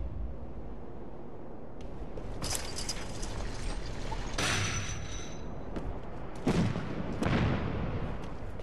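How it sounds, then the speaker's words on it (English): An explosion sounds in the zombie video game Dead Island 2, heard as a few dull booming bursts and rumbles over a steady ambient backdrop, moderately distant and not very loud. "An explosion?"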